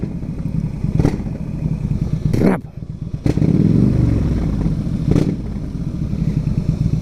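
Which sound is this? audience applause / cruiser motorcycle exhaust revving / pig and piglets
cruiser motorcycle exhaust revving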